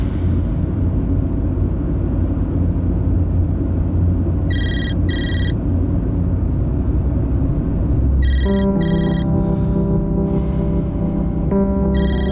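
A mobile phone ringtone plays in a TV drama scene: two short electronic bursts, then a sustained melodic ringing tone over a steady low background rumble and score.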